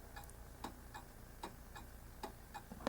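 Faint, close ticking comes from a Junghans half-hour striking clock running seriously out of beat, its ticks falling in a noticeably lopsided, uneven rhythm over a quiet hum.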